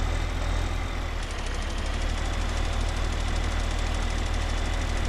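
An old tractor engine in Farming Simulator 15 runs steadily, with a loud, continuous rumble and a knocking texture that shifts slightly after the first second, alone with no talking.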